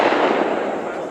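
A single 28 gauge shotgun fires once, a sharp burst with a short decaying tail, close and fairly loud.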